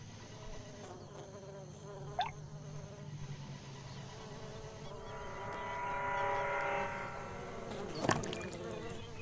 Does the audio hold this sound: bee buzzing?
yes